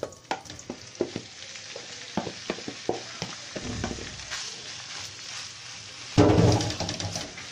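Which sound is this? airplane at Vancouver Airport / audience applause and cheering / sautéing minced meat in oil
sautéing minced meat in oil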